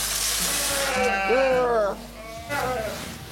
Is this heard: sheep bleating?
yes